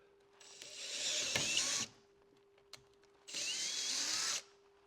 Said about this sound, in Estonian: meie puurime täna plastikut sellega